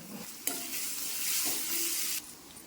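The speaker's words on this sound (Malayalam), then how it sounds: "നമ്മുടെ ചെറിയ ഉള്ളി മൂക്കട്ടെ നന്നായിട്ട്" Small shallots frying in a pan for a Kerala brinjal curd curry, a steady close hiss of sizzling oil broken by a sharp stir near the start, then fading out.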